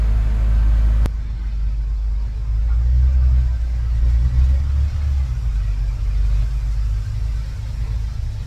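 A big tour bus engine rumbles low and steady throughout the ride, a continuous deep drone with slight swells and no talk.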